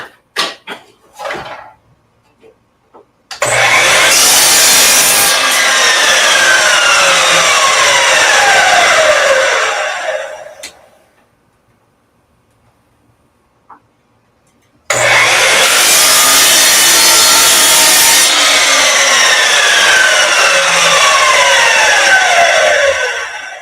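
A saw cuts wood to trim a piece for a router table in two long, loud, harsh cutting passes separated by a quiet pause, with a few light knocks at the start.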